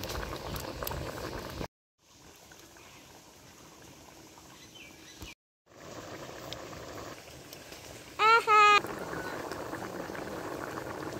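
A pot of bitter gourd, potato and fish curry boils with a steady bubbling hiss, broken by two brief silent gaps, with a short tonal chirp near the end.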